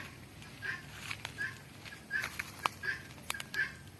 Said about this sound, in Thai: ที่ได้ยินนี่เป็นเสียงไก่ต๊อกของคนข้างบ้าน